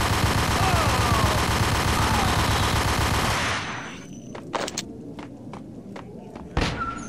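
Gunfire in Max Payne: a dense, sustained burst of rapid shots fills the first few seconds, then cuts to a few sharp isolated cracks and thuds, loud and close.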